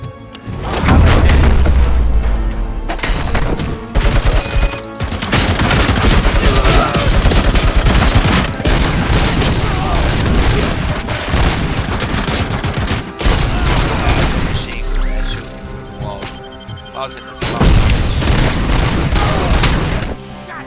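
In the Robocop Rogue City video game, loud bursts of gunfire and booming explosions follow one another in rapid volleys, heavy and close, with brief gaps between the barrages and no speech.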